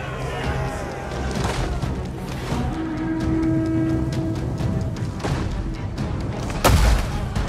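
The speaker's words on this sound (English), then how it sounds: "Trebuchet firing away at the bombard here. The bombard also firing away." Trebuchets and bombards firing during a medieval siege battle in Medieval Kingdoms Total War, with dull booms and impacts going off over a steady din of battle noise, and one louder crashing hit near the end.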